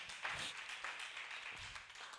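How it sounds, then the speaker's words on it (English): A small group at a business cocktail event claps for themselves, a faint, light patter of hands from a modest crowd, steady and brief, with no talking over it. "Clap for yourself"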